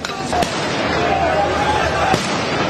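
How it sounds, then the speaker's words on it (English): Fireworks set off by street protesters crackle and pop amid crowd noise, with two sharp bangs standing out from the steady background din. "as protesters let off fireworks"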